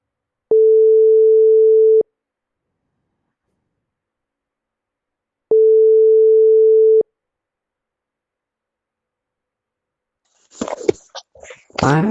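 Two long, even ringback tones sound while a phone call is placed, each about a second and a half with silence between, followed by a voice answering.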